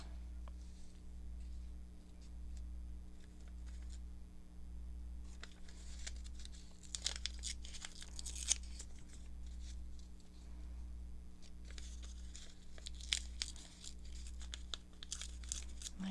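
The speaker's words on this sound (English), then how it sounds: "Maybe if I tear this blue writing out here, because this is brown paper as well." Brown paper is torn by hand in a series of separate rips, with crinkling in between, fairly close and clear over a low, constant electrical hum.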